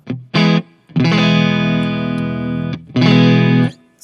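An electric guitar plays through a Tone King Royalist amp with the fat knob engaged and a little reverb. Three loud sustained chords ring out close up, the middle one held longest, with short pauses between them.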